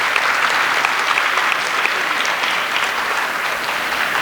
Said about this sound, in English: I request the audience to kindly acknowledge the movement with a clap.